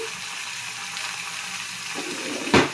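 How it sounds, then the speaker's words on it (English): Boiled potatoes are drained in a kitchen sink, with a steady rush of running water close by that ends in a brief louder splash and clatter near the end. "So now we need to drain them."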